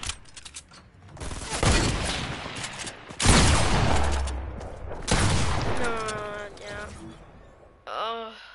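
Rapid bursts of gunfire from a Fortnite Battle Royale match crackle loudly across much of the moment, with players talking over the shooting.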